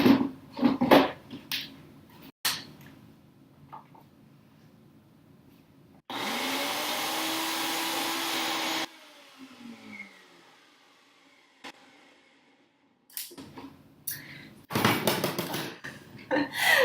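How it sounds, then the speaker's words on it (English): A blender blending roasted sweet peppers whirs loudly and steadily for a few seconds, then cuts off; clattering and handling noises come before and after. "So this has been blended up for about 30 seconds"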